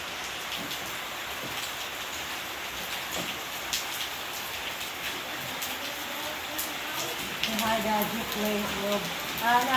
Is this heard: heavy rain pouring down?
yes